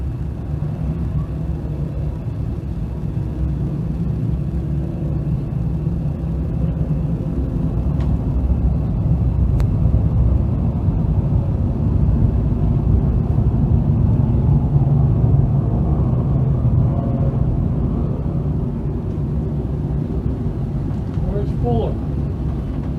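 358 modified race cars run on an oval track, a steady broad engine rumble droning continuously at moderate distance without much variation.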